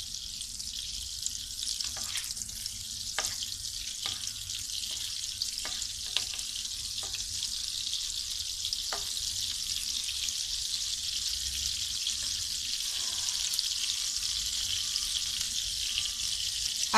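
Butter heating in hot oil in a pan for butter chicken gives a constant, even hiss of sizzling with a handful of sharp clicks and taps early on.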